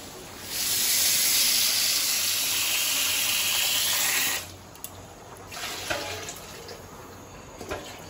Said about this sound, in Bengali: চালটা আমার খুব সুন্দর করে কষানো হয়ে গেছে, এখন আমি জল দিয়ে দিই